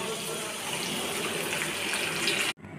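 Water is poured into a pan of paneer do pyaza curry, a steady broadband gush that runs loud and continuous for about two and a half seconds before stopping abruptly, leaving a quieter kitchen background.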